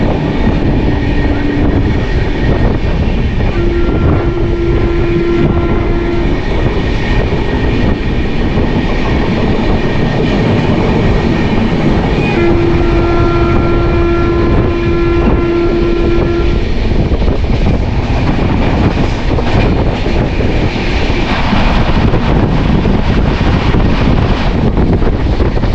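The Rajya Rani Express rolls from Patna toward Saharsa with a loud, continuous roar of wheels and rushing wind, and a horn sounds at times over the steady rumble.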